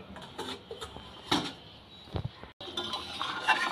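Metal clinks and clatter of a lid being set onto a cooking pot of Bengali ridge gourd and potato fish curry, a few sharp close knocks followed by a brief cutout and then a steady simmering hiss.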